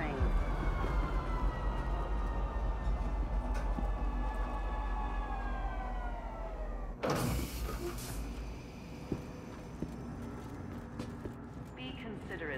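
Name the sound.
metro train at Metro Center station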